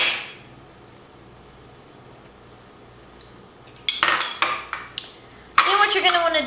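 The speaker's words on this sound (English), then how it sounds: "just start mixing your ingredients together" Utensils clink and scrape against a bowl while chocolate bourbon pecan pie filling is mixed, a few sharp bursts after a quiet start, close and fairly loud.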